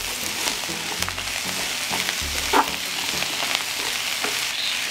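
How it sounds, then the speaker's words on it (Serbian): Vegetables sizzle steadily in hot oil in a pan, a constant close crackling hiss with small pops and occasional stirring bumps, with no talking. "Povrće ću pržiti dok ne omekša."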